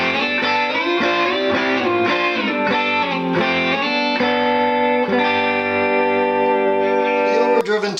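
Stratocaster electric guitar with Seymour Duncan Phat Cat pickups played through an Earthquaker Devices Speaker Cranker on its lowest setting, a continuous run of ringing chords and notes with a lightly driven, full tone and a sharp pick attack near the end.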